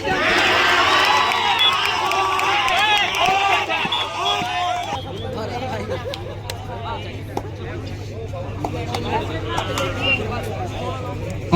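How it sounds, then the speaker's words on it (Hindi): Spectators at a Hindu Premier League kabaddi final cheering and shouting, a loud crowd roar with children's voices that fades into background hubbub and announcer-like talk. "सभी दर्शक एक बार दोनों टीमों के लिए जोरदार तालियां मार दो"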